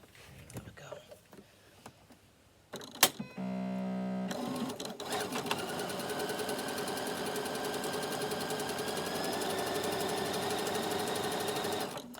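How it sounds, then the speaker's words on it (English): Sewing machine stitching along drawn lines on a bag, a few scattered clicks and handling noises first, then a loud, continuous, even whir of stitching close by, with some talking. "So when I say draw, I mean with the sewing machine."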